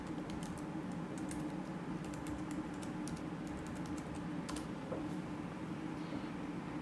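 Fingers type on a computer keyboard, mostly in quick bursts of light, close clicks with short pauses, over a steady low hum.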